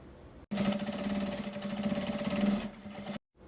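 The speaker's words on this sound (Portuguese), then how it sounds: "tomba e passa uma costurinha de pesponto" A sewing machine runs steadily, topstitching fabric for a small handmade nail polish holder, with a fast continuous whirring stitch rhythm for about three seconds that starts and stops abruptly.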